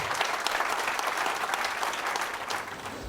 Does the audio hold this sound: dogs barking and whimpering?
no